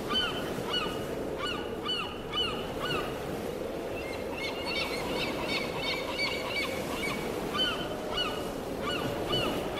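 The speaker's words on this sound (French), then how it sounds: "les mouettes aux nues jettent leurs cris sonores" Seagulls cry overhead in repeated loud, harsh calls that come in irregular bursts over a steady rushing background.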